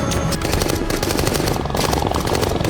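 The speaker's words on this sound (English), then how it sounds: "Quaritch spots them and opens fire" Rapid automatic gunfire from a gunship in an Avatar film scene, a dense, continuous rattle of loud overlapping bursts with no pause.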